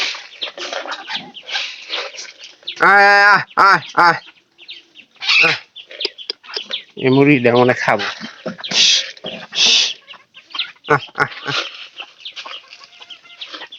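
Chickens clucking near the camera as they are fed puffed rice alongside pigeons in the morning, short clucks and calls scattered between a person speaking throughout.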